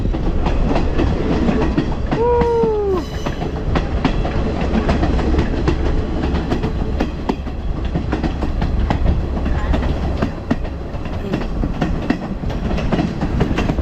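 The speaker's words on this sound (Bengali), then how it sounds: "চা বাগানের ভিতর দিয়ে যাচ্ছে ভাই" A train runs through Sri Lankan tea gardens with a steady, loud rumble and clickety-clack of wheels on rails. A brief horn sounds early on.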